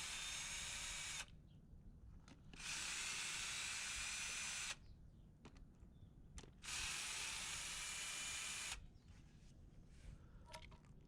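Power drill or driver loosening the screws on an anti-siphon irrigation valve bonnet, heard as three separate whirring bursts of one to two seconds each, close and loud, with short quiet gaps between them.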